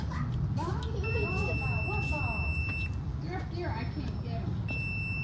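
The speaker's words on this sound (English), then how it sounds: "You should hear a beeping sound." A steady high electronic multimeter continuity beep sounds in sustained bursts while testing the AGS sensor of a Pentair MasterTemp 250 pool heater, with a person talking over it against a noisy background.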